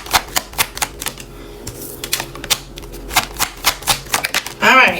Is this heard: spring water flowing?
no